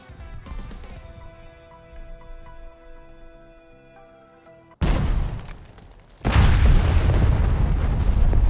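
A bomb explosion hits its target in a video game after a tonal engine or music drone, with a sudden loud boom followed by a sustained roaring, rumbling blast that intensifies and fills the scene.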